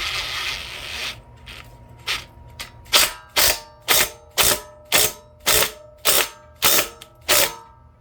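A ratchet tightens the bolts on a replacement engine for a 1959 Yuba tiller, several irregular clicks followed by eleven loud, evenly spaced ratcheting snaps close to the mic, with no talking.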